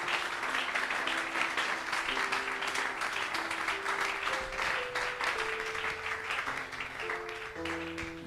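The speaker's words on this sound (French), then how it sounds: "Acclamons Jésus" A church congregation applauds steadily during a Friday worship service, dense clapping sustained throughout with sung or held musical tones running underneath.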